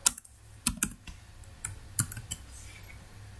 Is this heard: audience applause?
no